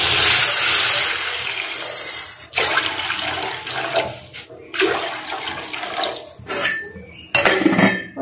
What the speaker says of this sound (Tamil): ஸோ இப்போ 3 கிளாஸ் தண்ணி நான் ஊத்துறேன்.